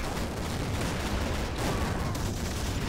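A 2-pounder tank cannon firing in the video game Steel Fury at a target about 1,000 meters away, heard as dense, continuous gunfire-like roar with no clear separate shots.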